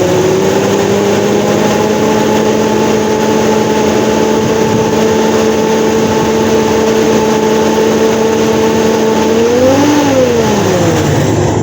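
A 1953 Ford Customline with a swapped Chevy 350 engine running after a new intake, a loud close steady rumbling idle that rises briefly in pitch near the end.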